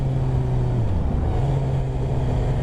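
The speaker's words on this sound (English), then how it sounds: "pull in the clutch, downshift, ease off the clutch" Suzuki GSX-R 750 motorcycle engine running steadily up close, its low tone dipping briefly and then rising again as the rider downshifts, with no voices.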